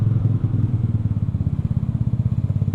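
A motorcycle that is hard to start and has not been serviced, its engine turning over with a rough, pulsing chug that grows into a faster, uneven putter. The sound is close and fairly loud, with no talk over it.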